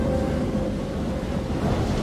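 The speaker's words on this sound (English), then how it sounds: "the boat's filling up with water." Water rushing and waves sloshing as a boat fills up in the video game Man of Medan, a steady, loud wash of noise with no voices.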